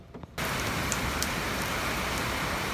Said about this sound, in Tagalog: Kailan malakas pa yung ulan.